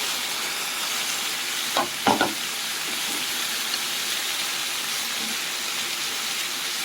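Liver and onions fry in a hot pan, a steady close sizzle with a few brief scraping stirs early on, continuing evenly without voices.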